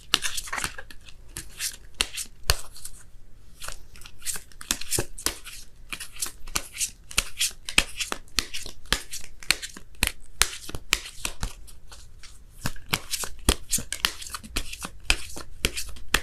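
Tarot cards shuffled and drawn by hand, a steady run of close, crisp riffling flicks and slaps continuing throughout with no talk.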